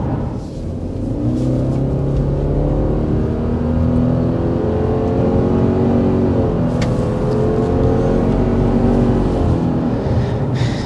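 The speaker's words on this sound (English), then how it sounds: "We're speeding up a little past 55 miles per hour" A 2025 Subaru Forester Touring engine hums and climbs steadily as it gathers speed past 55 mph, heard from inside with constant road rumble and no talking.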